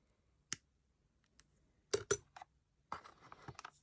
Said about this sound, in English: Then we're going to cut the wire.